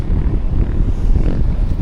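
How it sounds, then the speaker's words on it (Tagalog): Wind roars hard against the microphone in a continuous low buffeting rumble on a kayak fishing trip in New Zealand, loud and close, with no other sounds standing out. "Kasi medyo mahangin guys"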